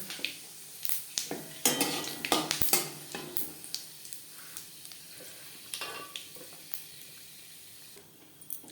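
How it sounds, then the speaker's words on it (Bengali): Two broken dry red chillies and half a spoon of panch phoron tempering in four spoons of hot refined oil, a light crackling sizzle with clinks and scrapes of a utensil against the pan, close and quiet, fading toward the end. "চার চামচ রিফাইন্ড অয়েল গরম করে নিয়েছি ফোড়নে দিয়ে দিলাম দুটো শুকনো লঙ্কা"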